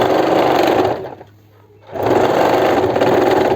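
An automatic sewing machine stitches kurti seams along marked fitting lines, a loud close rapid whirring that pauses briefly in the middle, then resumes at full speed.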